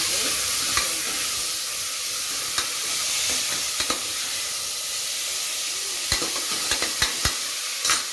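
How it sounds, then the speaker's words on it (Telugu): Onion and tomato sizzle in plenty of hot oil for a bean, capsicum and potato curry, with a steady frying hiss and occasional sharp stirring clinks and scrapes of a utensil in the pan, close and with no talk. "ఇప్పుడు అవి వేగినాయి కాబట్టి ఎర్రగడ్డ, టమాటా వేసేసాను."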